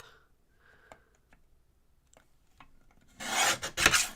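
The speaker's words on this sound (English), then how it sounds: "I'm just going to trim up the top edge and this edge really quick." Craft paper is trimmed along its edges, heard as scattered faint ticks and then a short, loud rasping cut of about a second near the end, close and alone.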